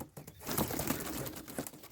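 Sport pigeons coo inside a pigeon loft, soft low murmuring coos heard close against a broad hiss of loft noise and faint rustling, with no talking.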